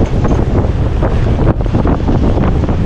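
Strong wind and high surf from a super typhoon roar steadily across the full range, with heavy buffeting on the microphone. The noise is loud and continuous, with only a brief dip partway through and no voices.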